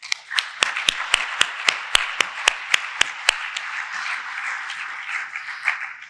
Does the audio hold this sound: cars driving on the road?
no